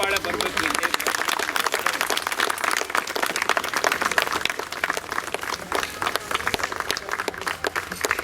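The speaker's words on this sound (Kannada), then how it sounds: "ಪೂರ್ತಿ ಚಪ್ಪಾಳೆ ಬರಬೇಕು." An audience at a Lokasiri award ceremony claps in a dense, continuous burst of applause, fairly loud and sustained, while voices talk over it.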